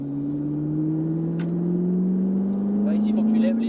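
A Ferrari 458 Italia accelerates on the Circuit de la Ferté Gaucher, its engine note rising steadily in pitch from inside the car while someone speaks over it.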